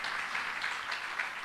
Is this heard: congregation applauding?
yes